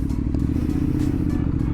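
A new motorbike engine running steadily up close, a dense low rumble that holds without pause through the short stretch, with faint clatter over it.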